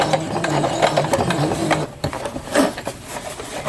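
A sewing machine stitches a welder's cap, a steady close mechanical whir with rapid needle clatter and a short break partway through.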